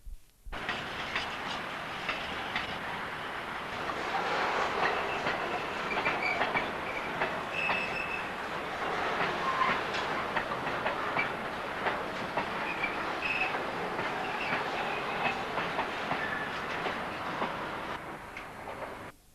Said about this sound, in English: a diesel shunter pulls a mixed consist, probably from Immingham reception sidings